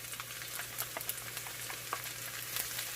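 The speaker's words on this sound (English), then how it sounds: "The first thing we're going to saute is our garlic." A head of minced garlic sautés in cooking oil, giving a continuous soft sizzle dotted with small crackling pops, steady and close with no talking.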